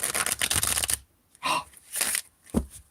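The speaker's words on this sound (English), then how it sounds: "You're shuffling too loud." Tarot cards shuffled by hand in close bursts: a long riffling run, a pause, then two shorter shuffles and a sharp tap, with no talking.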